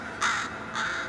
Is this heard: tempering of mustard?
no